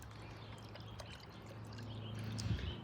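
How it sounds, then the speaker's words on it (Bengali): Water is poured into a homemade kitchen-waste compost container, a faint quiet trickle and pour against low background noise, with a brief louder splash near the end. "এখানে একটু পানি দিয়ে দিই"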